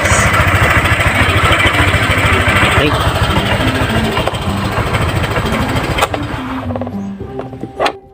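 A Honda Click 125i scooter engine idles close by with a steady, chugging putter, fading and sputtering near the end as it is shut off during an oil change; a voice speaks over it.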